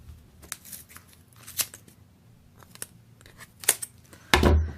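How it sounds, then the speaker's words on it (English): Scissors snip through crochet yarn in a handful of quiet, sharp cuts spaced irregularly, ending in a louder rustling bump. "you can just slide your scissors right in"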